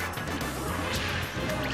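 A back aerial attack landing in a Super Smash Bros match between Jigglypuff and Captain Falcon: a sharp crash-like smack over a dense, steady bed of game audio and crowd noise, lasting under two seconds.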